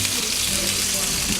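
Pasta sauce bubbles and sizzles in a pan on a stovetop, a dense continuous frying hiss at close range with no break.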